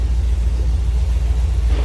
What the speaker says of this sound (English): 350 underneath the hood, running pretty smooth, sounding good.